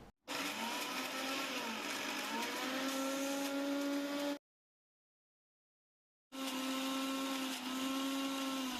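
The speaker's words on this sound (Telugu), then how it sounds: "తరువాత మూత పెట్టుకొని ఒకసారి గ్రైండ్ చేసుకోవాలి." A mixer grinder whirs loudly while grinding ginger and garlic into paste, running in two steady bursts split by a pause of about two seconds.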